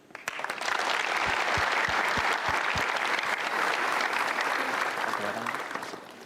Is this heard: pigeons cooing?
no